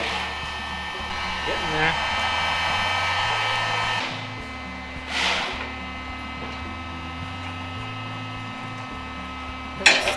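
A hot air plastic welder blows a steady, loud whirring hiss while melting plastic into a broken part, with a brief spoken remark partway through.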